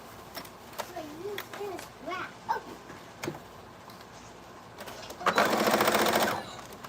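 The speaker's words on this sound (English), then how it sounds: "But I have a serger, so I'm going to use that" A serger sewing machine runs in one short loud burst near the end, close by, after a stretch of quiet with a dog whimpering and yapping.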